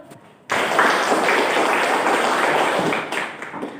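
Students in a classroom clap their hands together after their teacher's prompt; the clapping bursts in suddenly, holds as a fairly loud, even patter for a few seconds, then tapers off toward the end.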